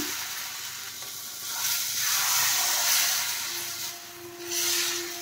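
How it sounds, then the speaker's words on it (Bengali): Rice flour batter poured into a hot oiled pan sizzles with a bright hiss that swells and eases in waves, steady and close with no talking. "এখন আমি যে ব্যাটারটা বানিয়েছি সেটা দিয়ে দিচ্ছি প্যানে।"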